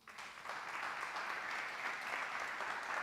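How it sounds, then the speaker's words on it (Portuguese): A congregation in a church claps steadily throughout, a dense, even wash of applause at moderate distance with no voices on top. "Dá um aplauso a Jesus aí."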